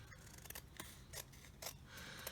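Scissors snipping through pieces of acrylic-painted artwork, a few quiet crisp cuts in an irregular rhythm, close by with no talking.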